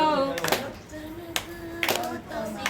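Hands clapping in time to a devotional bhajan, a few sharp claps at a steady rhythm over sustained sung notes from voices nearby.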